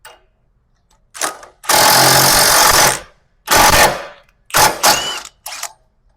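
Impact wrench driving lug nuts onto new wheel studs on a hub, firing in several loud bursts: one long sustained rattling run followed by shorter hammering bursts separated by brief pauses.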